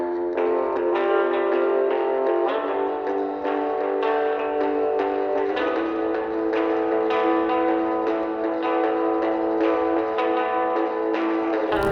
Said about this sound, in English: I'm going to strum the chords from the chorus just in a little bit of a different strumming pattern,